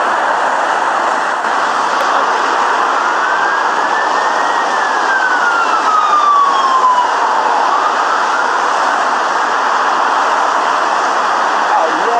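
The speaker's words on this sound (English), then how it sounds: "We've actually managed to get the blue lights of the ambulance that was just coming by" Ambulance siren wailing steadily from a distance, its tone sliding up then down as it passes by, over a constant outdoor background hum.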